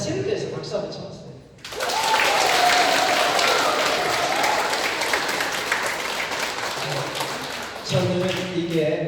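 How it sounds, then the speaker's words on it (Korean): Audience members in a church basement hall during a healing retreat clap for themselves in a long, dense round of applause, framed by someone speaking before and after. "자신을 위해서 박수 한번 쳐봤어요."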